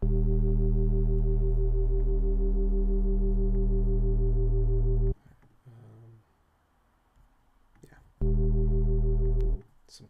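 A heavy, buzzing wavetable synth bass with distortion drones loudly for about five seconds, drops out while a voice talks quietly, then returns briefly before stopping.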